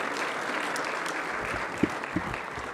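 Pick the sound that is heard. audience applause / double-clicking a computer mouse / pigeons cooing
audience applause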